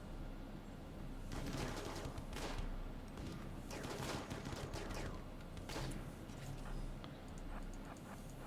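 Steady bursts of gunfire from a video game battle on sea ice, with rifle shots and rapid fusillades cracking continuously at a fairly even level throughout, no talk over them.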